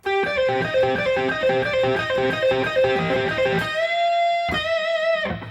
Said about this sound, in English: the first lick I want to show you is a very easy pull-off lick